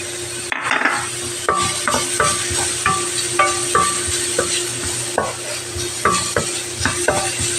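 Minced garlic sautéing in a frying pan for spaghetti sauce, a steady close sizzle broken by repeated scraping strokes of a spatula stirring the pan, with no talking.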